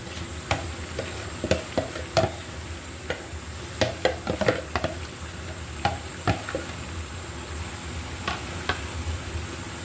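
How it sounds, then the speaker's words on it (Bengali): Foli fish frying in a pan, with a steady sizzle broken by sharp irregular clicks and knocks of a utensil against the pan as the pieces are placed and gently moved. "এই পর্যায়ে আমি মাছগুলো অ্যাড করে দিচ্ছি।"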